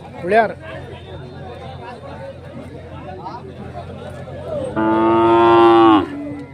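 Cattle moo amid a busy crowd at the Gavi Rangapura Betta livestock market, with a short low call early and then a long, loud bellow near the end over chatter.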